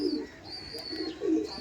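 Male and female pigeons coo in a loft, with three soft, low rolling coos close by and a thin high whistle running between them.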